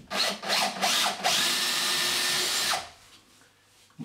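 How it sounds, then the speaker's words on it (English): Power drill boring a fixing hole into a stud wall for a radiator bracket: a few short bursts, then a sustained loud whine of about one and a half seconds that stops abruptly, leaving quiet room tone. "then we can drill the fixing hole"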